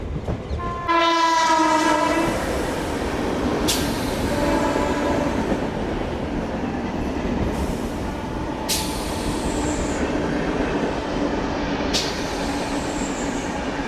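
MEMU express train number 17237, Bitragunta to Chennai Central, pulling into platform 4 at crowded Ponneri station: a close horn blast near the start, then a steady loud rolling rumble with sharp squeals and clanks.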